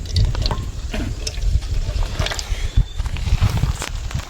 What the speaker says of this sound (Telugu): దీని మీదలో ఆయిల్ పోయాలి